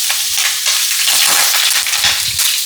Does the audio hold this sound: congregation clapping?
no